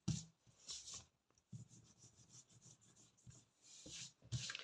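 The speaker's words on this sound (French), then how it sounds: "on va venir gommer tout ce qui... tous les traits de crayon gris" A rubber eraser rubs quickly across a handmade greeting card, rubbing away pencil lines in short, close, soft scratchy bursts separated by brief pauses.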